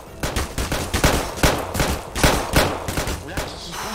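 Rapid gunfire in the video game Garry's Mod DarkRP, with loud, close shots cracking in a quick, irregular volley that keeps going the whole time.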